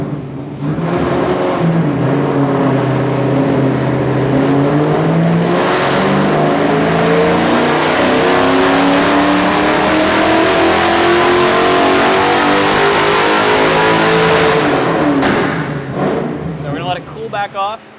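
A rebuilt Mustang engine roars at full throttle, pitch climbing steadily as it revs hard for a long sustained pull, then cuts off near the end.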